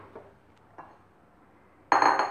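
An empty metal kitchen vessel being set down, with a couple of faint light clinks followed by one louder, ringing metallic clank near the end, heard close and without talk.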